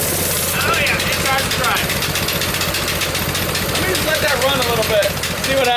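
An engine running at a raised, fast idle with the choke on, a steady close rumble with rapid even pulsing and a faint knock throughout, and no pauses.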